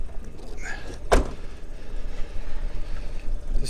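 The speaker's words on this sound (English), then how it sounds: "Okay, I've just dropped the door down again." A 1992 Mazda Autozam AZ-1's door drops shut with a single solid thunk. It stands alone and close over the low, steady hum of the idling car.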